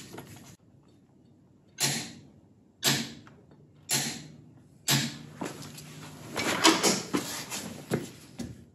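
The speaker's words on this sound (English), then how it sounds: "Now we need to torque this crank nut to 125 newton meters or 92 foot-pounds." A torque wrench tightens the crank nut on a Kawasaki Versys motorcycle to 92 foot-pounds, giving several separate mechanical ratcheting bursts that turn into denser, quicker clicking and rattling, close by in a quiet space.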